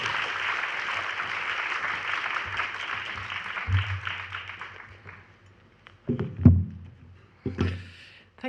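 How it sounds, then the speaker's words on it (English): Audience applause welcoming a keynote lecturer on stage at an M+ museum talk, a broad dense burst of clapping that fades out over several seconds, followed by a few isolated thumps and handling noises. "Please join me in welcoming her with a round of applause."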